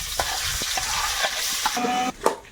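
Dried chilies and whole garlic cloves frying in oil in a kadai, a steady close sizzle with scattered pops and ladle clinks, no talk.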